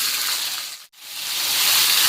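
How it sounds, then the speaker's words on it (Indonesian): Chili peppers frying in a pan of oil after shallots, for an Indonesian brambang asem dish: a steady close sizzle and hiss with a brief drop to near silence partway through, then the sizzling builds back. "kita goreng cabenya"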